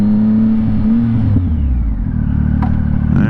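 A ridden motor vehicle's engine drones loud and close, its pitch dropping briefly as it shifts into second gear before climbing again under acceleration; no voices.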